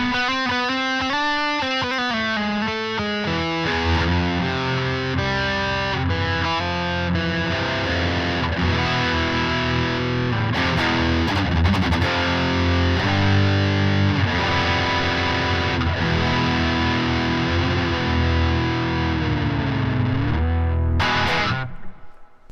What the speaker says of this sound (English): the different distortion pedals that are available to you with the Tonemaster Pro